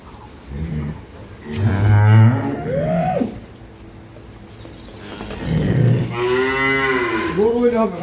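A dairy cow and her calf of an improved milking breed at an agro farm in Dinajpur give two loud, drawn-out moos, one early and one near the end, with quieter farmyard background between.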